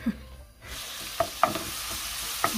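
Butter sizzles in a hot pan for buttered garlic shrimp, with a steady frying hiss that swells after a brief dip, plus a few light clicks of a utensil against the pan.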